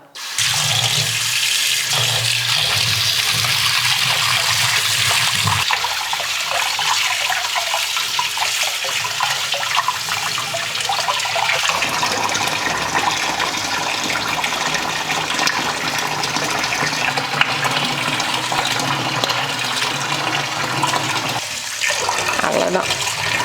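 Tap water runs continuously into a sink while fish is washed, a loud steady gushing splash lasting throughout with shifting tone as hands move under the stream, with a voice faintly audible at times.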